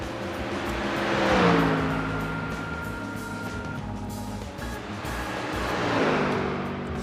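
Race car engine in iRacing at Bathurst during the 12 hour race, pitting: a steady whirring engine drone with gear-like pitch sweeps, swelling near the start and again toward the end, no talk.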